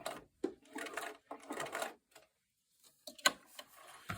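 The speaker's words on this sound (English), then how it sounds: "I'm going to use my hand to turn the wheel on my sewing machine" A sewing machine runs in short stitching bursts separated by pauses while sewing a 5-pointed star quilt block, with quiet mechanical clicks and a sharp clack near the end.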